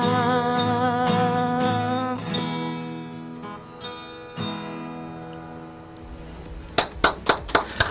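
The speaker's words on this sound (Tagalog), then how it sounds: "isang malakas na palakpak" Live music with sustained tones fades out, then several sharp, close claps ring out in a quick, spaced series at the end, like a small audience applauding.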